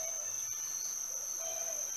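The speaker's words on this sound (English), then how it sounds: "God, there's a lot of crickets. I never heard crickets so loud." Crickets chirp loudly at night after rain. Their dense, steady high trill fills the air with no break and no voices.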